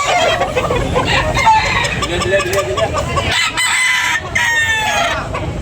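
A rooster crows loudly nearby at a poultry sale, its long call followed by clucking from other chickens, with a faint voice in the background.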